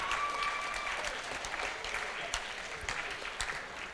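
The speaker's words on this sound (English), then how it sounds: "Can we give a round of applause?" An audience at a student union leadership election results event gives a sustained round of applause, dense clapping with a few sharper claps and faint voices mixed in.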